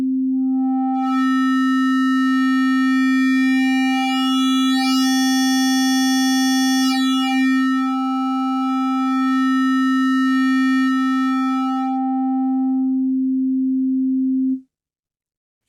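A Yamaha Montage synthesizer plays a sustained sine wave with its wave folder modifier set to soft, adding metallic, slightly distorted overtones; one steady loud held tone lasts about fifteen seconds before cutting off abruptly.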